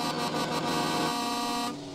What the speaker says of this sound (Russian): Какие клаксоны,